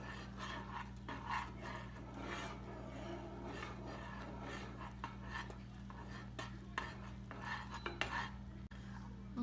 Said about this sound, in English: always stirring it